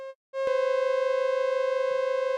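A steady synthesized tone with a buzzy, harmonic-rich timbre cuts out briefly, then returns and holds evenly with a faint pulsing shimmer.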